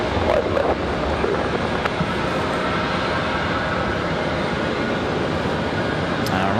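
Icelandair flight ICE 820 departing Raleigh-Durham International for Reykjavik, a sustained broad airliner roar at constant loudness with a few faint clicks on top and no talking.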